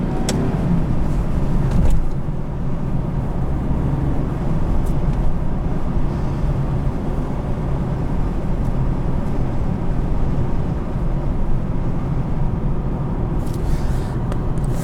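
A 2010 Nissan 370Z Roadster with a 3.7 liter V6 and seven-speed automatic driving along, a steady low engine and road drone with wind rush, continuous and fairly loud, no talk.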